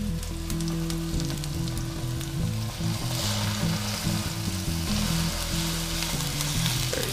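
Tuna sears in hot oil in a lidded pan, giving a loud, continuous, close sizzle and crackle, with a low steady hum running underneath.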